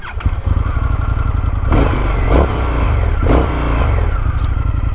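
A 2019 Indian FTR 1200 S motorcycle engine runs loud and close, a steady, deep idle rumble swelling into a few short revs, with no talk over it.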